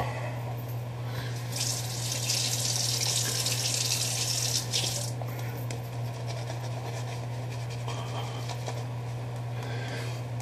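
Tap water runs steadily into a sink, a continuous splashing hiss that swells for a few seconds, over a low constant hum, while preparing a straight razor shave.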